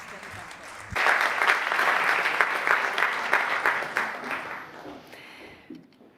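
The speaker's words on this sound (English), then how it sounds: "A big round of applause." A press-conference audience at a Basque film awards event breaks into loud applause that swells, holds for several seconds and then tapers off, with some voices mixed in.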